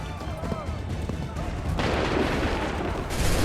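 Musket gunfire in Assassin's Creed 3 breaks out after a stretch of shouted orders, a loud crackling volley that sustains and then surges again near the end.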